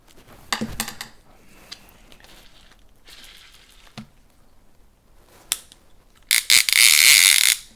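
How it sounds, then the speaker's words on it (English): Clicker ratchet of a Daiwa Lexa-LC 100HL fishing reel being tightened, with a few sharp close clicks and mechanical rattles, then a loud, rapid buzzing ratchet run near the end. "Tighten her up."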